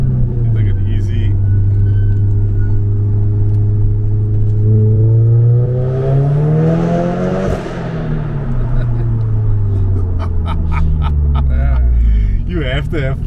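Audi S3 with a manual gearbox accelerating hard in second gear, engine note climbing steadily and loud from inside the cabin, a brief dip at the shift before the revs rise again; people talk over it.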